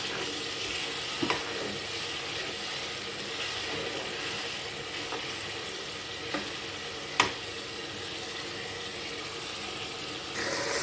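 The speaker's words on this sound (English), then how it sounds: "Stir and allow it to fry" Fish sauce with sliced pepper fries in a pan, giving a continuous, even sizzle close by, broken by a few sharp knocks of a spoon against the pan while it is stirred.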